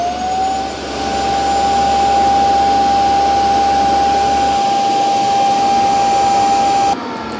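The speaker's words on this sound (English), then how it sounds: "Start emptying dust and cleaning the brush hair." A Eufy C10 robot vacuum's base station empties its dust bin and runs the brush roller backwards, producing a loud continuous whine with a steady high tone that cuts off abruptly near the end.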